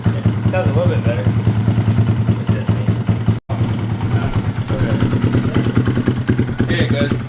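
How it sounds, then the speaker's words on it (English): A 2022 Honda Grom motorcycle engine with a high-compression piston idles loudly and steadily up close while warming up, with a brief cutout partway through, while a person talks over it. "So I'm gonna let the bike warm up for a little bit."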